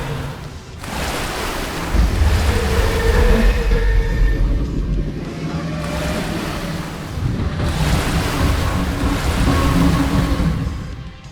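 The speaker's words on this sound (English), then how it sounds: "The 60-meter-tall entity rises from the water, exposing a maw that could swallow a school bus." A sea monster sound effect of a giant creature rising from the ocean: loud roaring surges of churning water and crashing surf in two big swells, with no voices.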